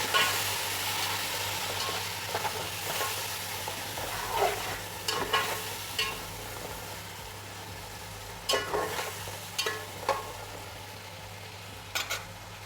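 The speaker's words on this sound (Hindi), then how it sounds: "टमाटर डालने के बाद आप इसमें चम्मच के तरीके से चलाएँ" A spoon stirs chopped tomatoes into a frying pulao masala over a low, steady sizzle, with occasional scraping strokes and light metallic taps against the pot.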